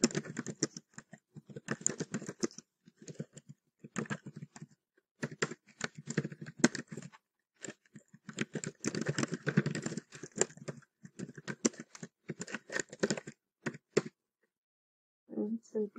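Close, quiet typing on a computer keyboard while composing an email body in ERPNext, coming in irregular bursts of rapid key taps with short pauses, alone without talk.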